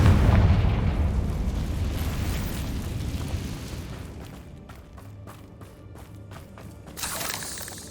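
A Confringo blasting spell explodes in the Hogwarts Legacy video game with a loud, deep boom that rumbles and fades over several seconds, followed by a rapid series of sharp crackling bursts and a final flare-up.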